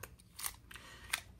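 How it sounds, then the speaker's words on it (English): Compact Victorinox mini scissors taken from a Swiss card snip several times in quick, irregular succession, producing crisp, close metallic clicks with one sharper cut near the end. "These compact scissors I commandeered from my old original Swiss card."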